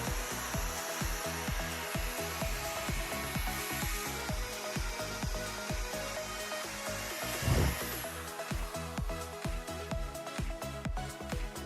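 An electric drill powered by a SCAT-863 portable charging station whirs continuously with a steady, pulsing motor hum, fairly quiet and alone, without any voices.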